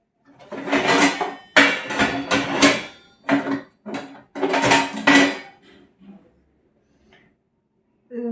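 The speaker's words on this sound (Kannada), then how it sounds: "ಸ್ಟ್ಯಾಂಡೆಲ್ಲ ತೊಳೆದಿದ್ನಲ್ಲ ಅದೊಂದು ಸ್ವಲ್ಪ ಜೋಡಿಸ್ಕೊಳ್ಳೋಣ" Washed steel kitchen utensils and a dish stand are stacked and arranged, giving a series of close, sharp metallic clatters and clanks in irregular bursts, then quiet.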